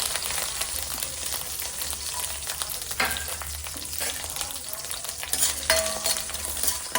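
Curry leaves and onion frying in oil for a Mangaluru-style bangada fish saru, a loud dense sizzle with crackles and stirring scrapes close by, no talk.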